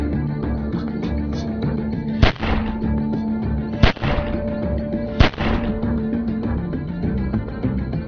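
Gunfire in the video game The Walking Dead 400 Days: three sharp, loud shots spaced a second or two apart, ringing over a low game ambience.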